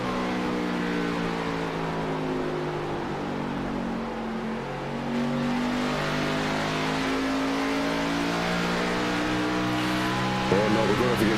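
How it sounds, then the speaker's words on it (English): NASCAR race car in a racing video game, its engine droning loudly with rising and falling pitch as it pulls out of corners, continuous through the lap with a voice talking over it. "You can hear the crescendo of the engine on the corner exit."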